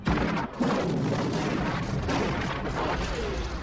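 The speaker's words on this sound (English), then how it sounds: "there's the Cobra assault cannon, which goes boom, and then there's no more anything." Heavy assault cannon fire from a fighting robot in an animated battle, a loud continuous barrage of booms and blasts with a brief dip near the start, with no talking.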